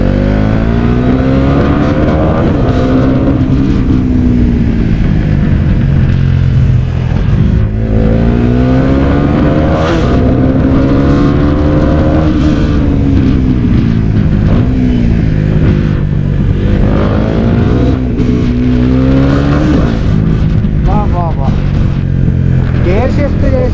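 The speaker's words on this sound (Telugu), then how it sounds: "గేర్ షిఫ్ట్ చేసినప్పుడు అయితే సౌండ్ క్రేజీ వస్తుంది." A Bajaj Pulsar NS400Z motorcycle engine revs loud and close, its pitch climbing and dropping repeatedly as it shifts through the gears over a sustained run.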